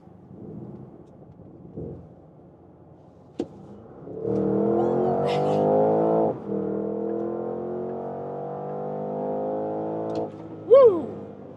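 Porsche Cayenne GTS in Sport Plus accelerating hard from inside the cabin, its engine note rising steadily through the gears with brief dips at shifts, ending in a sharp high whine.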